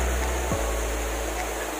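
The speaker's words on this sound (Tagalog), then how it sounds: "papasok po tayo ngayon sa Dududuan Falls" Dududuan Falls in Sitio Ilaya roaring as a steady, dense wash of falling water, constant and fairly loud throughout, with no voices.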